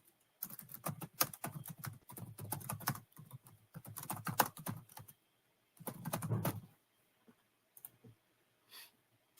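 Fingers type a note on a computer keyboard, with rapid bursts of close key clicks separated by short pauses, the bursts thinning to a few scattered taps near the end, and no voice heard.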